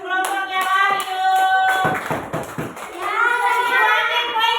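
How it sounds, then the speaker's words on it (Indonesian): Classroom clapping for a student group, a short burst of hands in the middle set between stretches of children's voices, fairly close and uneven. "Tepuk tangan untuk kelompoknya Wahyu."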